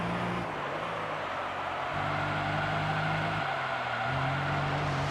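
Car engine revving and shifting through gears in Gran Turismo Concept 2002 Tokyo-Geneva, with tires skidding as the car slides around, loud and continuous with no voices.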